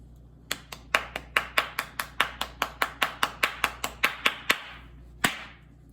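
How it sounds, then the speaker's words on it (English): A single pair of hands clapping about twenty times in a fast, steady rhythm. The claps are close and crisp, then a short pause and one last clap. "I have to applaud it."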